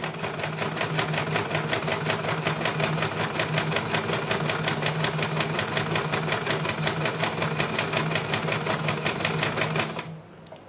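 A sewing machine stitches a buttonhole with a steady, fast mechanical chatter of even needle strokes, running loud and close for about ten seconds before it stops abruptly.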